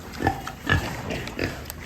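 Pig rooting around in a barn, giving three or four short, close grunts in an uneven rhythm over a quiet background, no speech.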